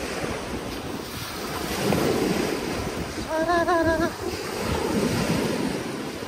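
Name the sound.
sea waves and wind on the shore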